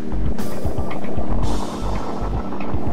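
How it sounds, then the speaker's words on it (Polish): A Chevrolet Spark's engine pulls away in first gear while driving in the city, a steady close-up hum over heavy low rumble and broadband road and wind noise, with brief thumps and no voices. "A silnik dalej pracuje cicho i przyjemnie."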